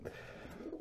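Pigeons coo in a brief, soft, throaty murmur close by, with no voices over it.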